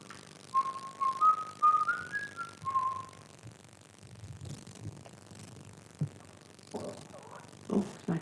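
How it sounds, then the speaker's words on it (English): A person whistles a short rising tune quietly in a farmhouse room, a few faint notes followed by soft shuffles and low murmurs of people nearby. "Whistle a tune."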